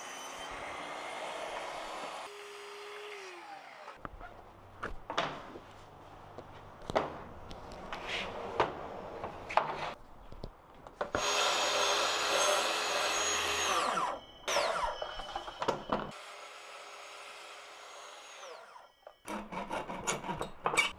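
A table saw rips a wooden pattern board lengthwise for a zero clearance miter saw fence, with the blade note changing as the wood feeds through, plus short spin-up and rundown bursts and quiet gaps between passes.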